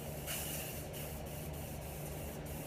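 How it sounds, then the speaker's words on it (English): A spray can sprays rose gold paint in a steady, continuous hiss, with a brief louder burst near the start, over a low mechanical hum. "You just kind of spray."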